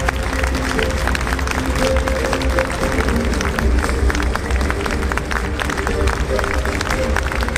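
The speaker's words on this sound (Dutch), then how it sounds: "Geef ze nog eenmaal een groot, lang applaus." Steady, dense applause from a large audience for the Gansu Acrobatic Group at a Chinese New Year celebration in the Netherlands, a continuous wash of clapping holding at even loudness throughout.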